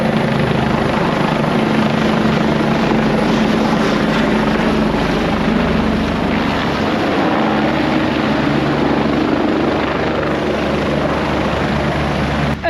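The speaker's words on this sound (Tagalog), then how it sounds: "ito yung medical evacuation nila ng mga sa air, sa helicopter." Medical evacuation helicopter flying overhead in Israel, a loud continuous rotor thump and engine roar holding steady throughout with no talk.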